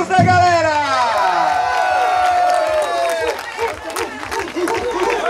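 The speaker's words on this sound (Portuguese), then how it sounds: "aplausos da galera" Crowd cheers and applauds at a race podium ceremony for the 2023 Holambra tourist run, starting with a loud whooping burst, then a steady wash of clapping and voices close by, with crowd chatter mixed in.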